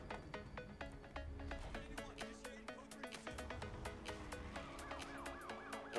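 In the Need for Speed The Run racing game, a police car siren sounds during a chase. Faint wailing tones rise and fall over engine noise and repeated sharp clicks and tones from the game.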